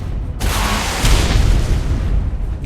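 A heavy rocket explosion in ARK Ragnarok bursts in suddenly and rumbles on as a loud, sustained roar with deep low-end boom, lasting over two seconds without voices.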